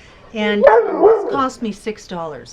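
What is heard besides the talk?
dog barking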